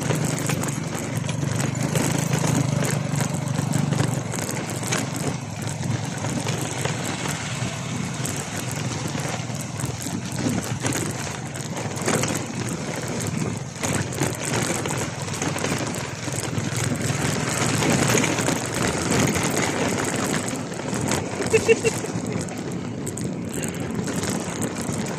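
A motorcycle rides along a rough, potholed dirt road in a rural sitio of General Nakar, Quezon Province, its engine a steady broadband rumble with rattling bumps and clatter throughout, loud and continuous with no voices.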